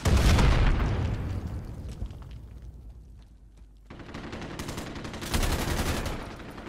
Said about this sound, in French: les armes, le son des armes et le recul